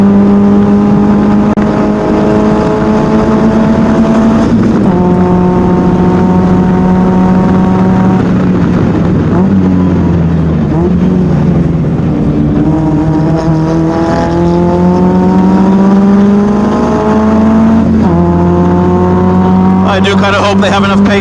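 A Caterham SuperSport race car laps Sepang Circuit during an ACCC race, its engine droning loud and close from the cockpit. The pitch rises through each gear and then drops at the upshifts, over constant wind and road roar, with faint talking underneath.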